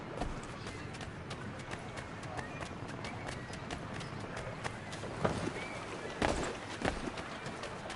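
Horse hooves clip-clopping in Assassin's Creed 3 Remastered, a faint, fairly even patter over a broad bed of city ambience, with a few louder thumps near the end.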